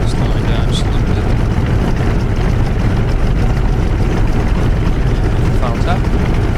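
F6F Hellcat piston aircraft engine throttled back while taxiing, a loud, constant droning roar close by with no breaks.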